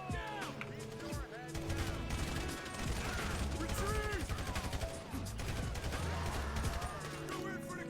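Gunfire in Grand Theft Auto V, rapid bursts of shots and clattering weapon mechanics layered over game music and effects, loud and sustained, with speech heard among the shooting.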